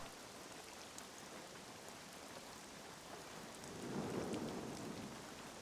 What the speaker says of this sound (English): Still pouring down rain, but I thought maybe I could see it clearing there.